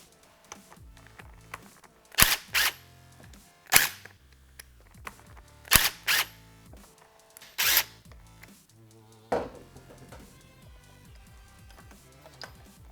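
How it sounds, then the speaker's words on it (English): An 8mm socket removes four motorcycle seat latch fasteners, giving several short, sharp ratcheting clicks and clacks in spaced bursts, close and fairly loud against a quiet background with faint low mechanical hum. "I will be using an 8mm socket to remove these 4 fasteners"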